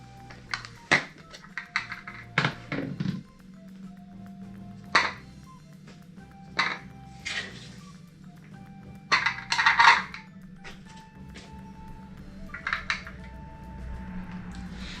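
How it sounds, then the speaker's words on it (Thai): Peeled garlic cloves drop one by one into a small plastic mini chopper, a scattered series of close, light clicks and knocks against the container with short gaps between them. "หลังจากที่เราทำการล้างแล้วก็ปอกกระเทียมเรียบร้อยแล้วนะครับ เราก็จะมาใส่ลงไปในนี้กันนะครับ"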